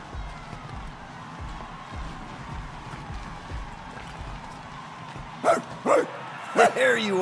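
Dog barks from the Guardians of the Galaxy video game, a few short loud yelps near the end following a stretch of low rumbling game ambience and speech-like murmur.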